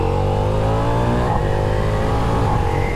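A Ducati Diavel V4 motorcycle engine revs loud and close as the ride begins, a continuous throbbing V4 note that climbs in pitch, dips briefly midway, then rises again.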